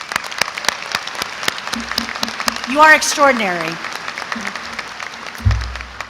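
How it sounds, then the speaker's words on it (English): Commencement audience applauding faculty at a university graduation ceremony, steady crowd clapping throughout while a voice speaks briefly over it. "If you would help me thank the faculty, please, let's applaud them."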